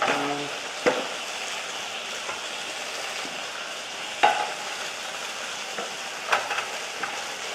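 Rice crisping in oil in a pan, a steady close sizzle and crackle running throughout with a few soft clinks and scrapes.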